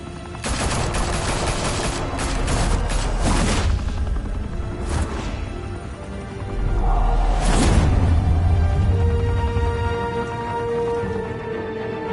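Video game gunfire in a Batman game, with bursts of rapid shots and heavy booms rolling loudly over about twelve seconds, some sustained volleys and a rumbling low end throughout.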